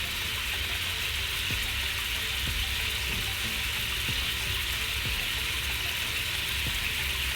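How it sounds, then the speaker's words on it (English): Steady hiss of a T-bone beef steak sizzling in a hot pan, constant and close, with occasional soft pops and clicks and no talking. "See how that steak is frying?"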